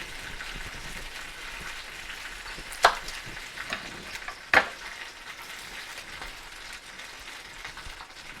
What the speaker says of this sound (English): we have those peppers cooking